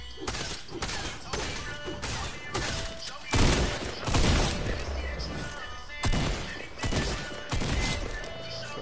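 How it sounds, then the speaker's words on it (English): Repeated loud shotgun blasts and crashing impacts in a chaotic video game firefight, the booming shots coming in quick irregular bursts with smashing debris between them. "My boy was trying to break shit with the shotgun."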